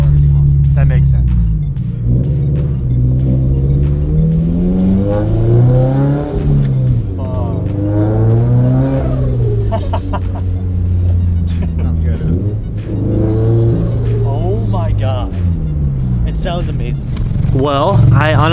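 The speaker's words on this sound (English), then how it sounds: "I honestly did not expect the blow-off valve and turbo surge setup to sound that good" Turbocharged Subaru BRZ with blow-off valve and turbo surge, revving loudly and steadily up and down throughout, with a few sharp high bursts on top and voices talking over it.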